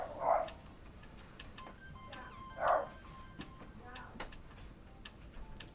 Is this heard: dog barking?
yes